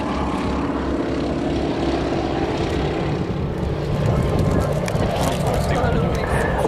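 Propeller aircraft engines drone steadily at an air display, a loud continuous rumble running the whole time with crowd noise and voices talking over it.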